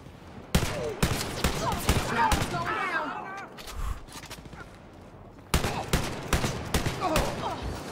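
Shotgun blasts in the video game Wolfenstein Youngblood, sharp loud reports in uneven bursts with a gap in the middle, and someone talking over the gunfire.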